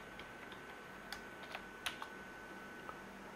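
Computer keyboard being typed on while entering HTML code: quiet, close, irregular key clicks with a few sharper taps, no voices.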